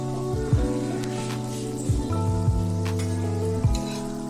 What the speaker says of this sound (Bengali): এবার সুজির গোলাগুলো আমি গরম তেলের মধ্যে আস্তে আস্তে ভেজে নিচ্ছি।